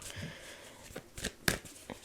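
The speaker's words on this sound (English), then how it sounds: "I always struggle when it comes to shuffling." A deck of cards is shuffled by hand, giving quiet, close riffling and a few crisp taps and flicks in an irregular rhythm.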